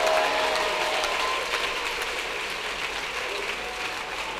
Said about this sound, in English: Oh, are you clapping